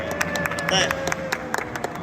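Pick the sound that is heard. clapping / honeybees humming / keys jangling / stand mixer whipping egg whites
clapping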